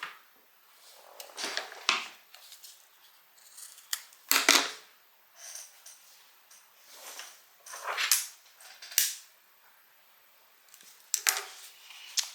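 Scissors snip the end off a fabric strap for a Julie tote bag: a run of sharp, quiet cuts spaced irregularly, with no voices.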